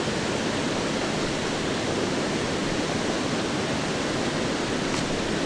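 An autumn waterfall roars as a steady, dense wash of falling water, loud and unbroken from start to finish with no voices.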